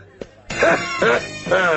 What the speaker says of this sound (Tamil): என்ன இருமுற? இருமலடா